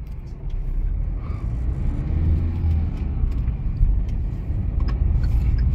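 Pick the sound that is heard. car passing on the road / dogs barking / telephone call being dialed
car passing on the road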